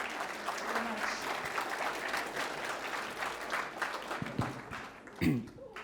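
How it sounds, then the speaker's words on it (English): Audience at a science talk on artificial intelligence breaks into applause, a dense, moderately distant wash of clapping sustained for several seconds, with a few voices murmuring and a brief louder bump near the end. "A round of applause."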